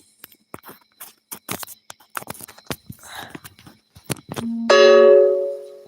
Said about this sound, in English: Sorry if y'all keep hearing that notification.